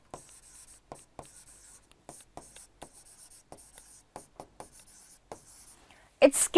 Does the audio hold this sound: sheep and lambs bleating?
no